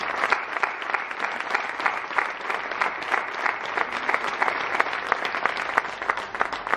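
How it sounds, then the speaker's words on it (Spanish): An audience at a UPN political event in Tudela, Spain, applauds with dense, steady clapping that carries on at an even level throughout, with no talk over it. "Para darles un aplauso, un fortísimo aplauso."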